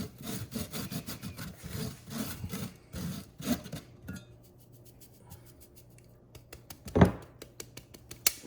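Dried herbs rubbed by hand through small grates, giving close, rhythmic scratchy rasping strokes that pause midway, then resume more sparsely with a single sharp knock near the end.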